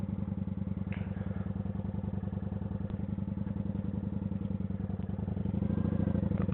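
Motorcycle engine running steadily while being ridden, a continuous low throbbing drone that swells slightly louder near the end as the revs build, with no talking over it.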